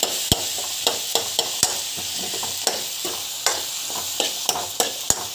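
Tomatoes fry in a pan for restaurant-style paneer butter masala: a constant sizzle broken by sharp, irregular clicks and pops of a utensil against the pan, close and fairly loud, without talk.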